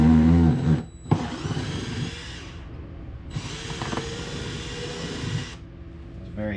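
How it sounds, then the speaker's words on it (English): A power drill whirs in two sustained bursts separated by a short pause, with brief mechanical clicks at the start, drilling holes for pannier mounting on a 2009 Harley-Davidson Fat Bob. "start off slow so the drill doesn't skip"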